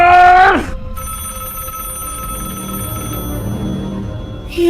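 A haunted telephone rings loudly in a short spooky film, a brief burst of bell ringing that stops abruptly, followed by a quiet room tone, then a second ring starting at the very end.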